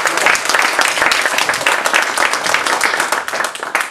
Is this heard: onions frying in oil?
no